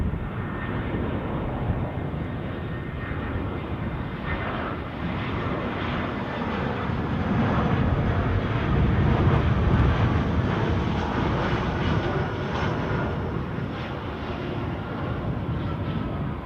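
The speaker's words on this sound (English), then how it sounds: "I've just got visual on the departing United Airlines aircraft" A departing United Airlines jet roars steadily near Edinburgh airport, a broad engine rumble that swells toward the middle and then slowly eases, with no voices.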